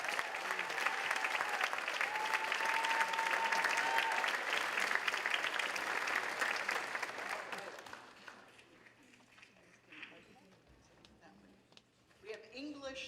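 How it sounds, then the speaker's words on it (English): An audience at a university honors convocation applauds award recipients with loud, dense clapping that holds steady for several seconds and then tapers off, giving way to quieter room sound and a voice speaking. "so give them a big round of applause."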